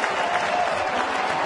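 Big crowd at a Pittsburgh baseball game applauding steadily for a curtain call after a three-run home run, a dense, continuous roar of clapping with no breaks.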